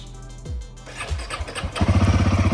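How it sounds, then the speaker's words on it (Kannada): A Royal Enfield Himalayan 450 motorcycle cold-starts, cranking a few times, catching, and settling into a steady, loud idle with a rapid rhythmic thump, close by. "so bike start cold start"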